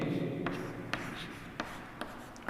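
A pen scratches out math equations on paper close by, in short strokes with several sharp taps spaced about half a second apart.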